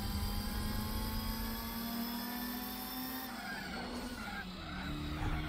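Toyota Celica TRD four-cylinder with a racing exhaust in Gran Turismo 4, revving loud and steady through a rally race, with a gear change midway and tire skids under the engine note.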